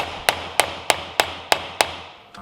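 Six evenly spaced, sharp hammer taps ring out on a tailshaft universal joint during a rebuild, each a crisp metallic strike with a short decay, close and alone.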